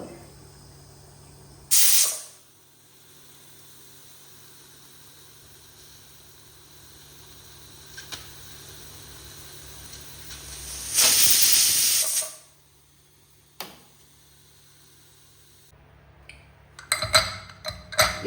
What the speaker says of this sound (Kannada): ಈಗಿದ್ದು ಹೈ ಫ್ಲೇಮ್ ಅಲ್ಲೇ ಎರಡು ವಿಸಿಲ್ ತೆಗಿತೇನೆ